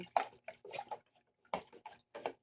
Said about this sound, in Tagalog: hahaluin ko yan